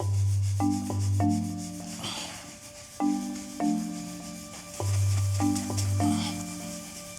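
A microfiber cloth rubs toothpaste over a yellowed Porsche headlight lens in repeated back-and-forth strokes, with steady tonal sounds running underneath.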